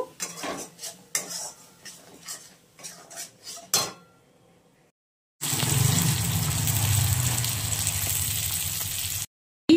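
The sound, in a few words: stirring and frying sesame, chilli and poppy seed paste in pan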